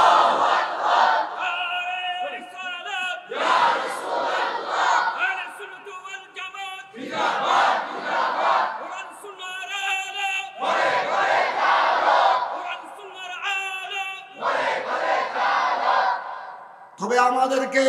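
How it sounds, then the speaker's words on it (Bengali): A large crowd at a Bengali Islamic sermon gathering roars religious slogans, takbir, Nara-e-Risalat and Nara-e-Ghausia, in loud, close waves of massed voices. Five or so surging chant bursts alternate with brief lulls in a steady call-and-response rhythm. "তাকবীরের এই স্লোগান, নারায়ে রিসালাতের এই স্লোগান, নারায়ে গাউসিয়ার এই স্লোগান"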